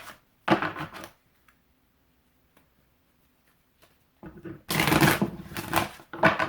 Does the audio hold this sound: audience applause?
no